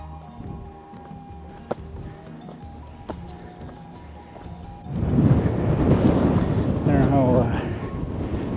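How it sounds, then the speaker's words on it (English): Strong wind buffeting the microphone on the Old Man of Storr mountain hike in Scotland, a low rumble with a few knocks that swells into loud roaring gusts halfway through. "the mic's picking this up. There's a lot of wind up here."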